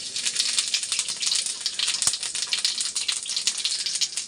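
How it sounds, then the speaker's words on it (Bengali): Whole cumin seeds sizzle in hot oil in a pan, a steady bright hiss with fine crackles and pops, close and continuous throughout with one sharp click midway. "দেখো আমার তেলটা গরম হয়ে গেছে, আর তেলে আমি একটু গোটা জিরে দিয়ে দিচ্ছি"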